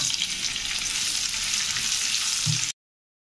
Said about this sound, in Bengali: ঘিটা গরম হয়ে গেলে 3 ধরনের বাদাম আর কিশমিশ ভেজে নেব।